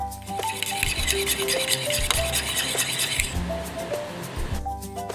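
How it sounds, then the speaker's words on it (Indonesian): Rapid whisking of eggs mixed with a cornstarch-and-water slurry in a bowl, a busy scraping and clinking rhythm close up that runs steadily throughout, with soft music underneath. "Kita aduk lalu kita tuang ke dalam telurnya dan kita kocok sebentar lagi"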